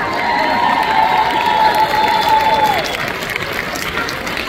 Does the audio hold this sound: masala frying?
no